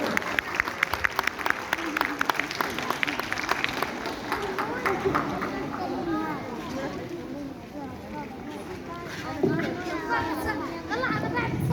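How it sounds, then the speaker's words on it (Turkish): Audience at a Turkish community event welcoming a speaker with sustained clapping that starts strong and carries on steadily, mixed with children's voices and crowd chatter throughout. "alkışlarınızla kendisini davet ediyorum"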